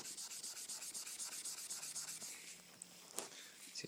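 Steady rhythmic scrubbing of a Scotch-Brite pad across a hardened epoxy surface, close and even with repeated back-and-forth rubbing strokes, then a brief sharper scrape near the end.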